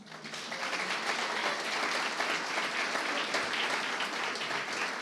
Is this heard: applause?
yes